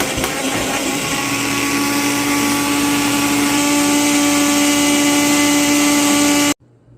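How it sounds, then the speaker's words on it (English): A countertop blender whirs loudly while blending pesto for a cauliflower-crust pizza, a steady high-pitched motor drone that runs continuously for over six seconds and then cuts off abruptly. "put my lid on, put it on my blender"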